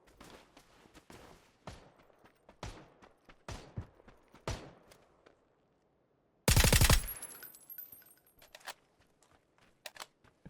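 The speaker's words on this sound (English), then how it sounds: "And someone's shooting at him from there" Gunfire in the video game PUBG: a loud burst of rapid automatic shots cracks out midway, surrounded by scattered single thumps and footstep-like taps, with near silence just before the volley.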